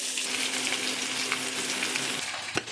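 Mixed vegetables sizzle and fry in a hot wok just after going in, a dense, close, continuous crackle with a brief stirring clatter near the end.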